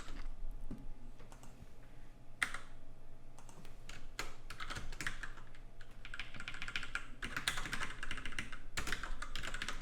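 Rapid, irregular clicking of computer keyboard keys as C++ code for a 6502 CPU emulator is typed, close and steady with brief pauses and bursts, no voices.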